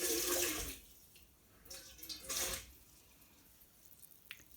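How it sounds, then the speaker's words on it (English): Water poured into a bowl already holding a little rice wine vinegar, a soft splashing pour in two short bursts with quiet trickling between, close and fairly faint. "Add a little bit of water to dilute."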